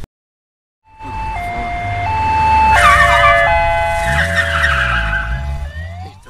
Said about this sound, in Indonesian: tiba-tiba terdengar sirine polisi